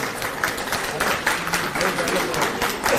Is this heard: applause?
yes